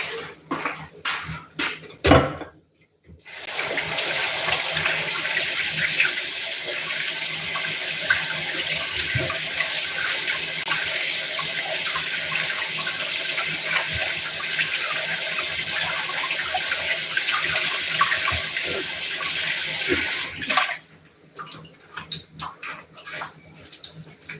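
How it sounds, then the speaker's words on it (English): A kitchen tap runs steadily for roughly seventeen seconds as hands are rinsed during drop-doughnut making, a loud, even rush of water framed by brief clatter and handling sounds before and after. "Let me quickly rinse my hands and I'll be right back."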